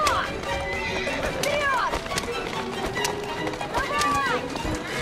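In Assassin's Creed Syndicate, a carriage horse whinnies several times over a quick clip-clop of galloping hooves, with shrill neighs rising and falling above the steady hoofbeats.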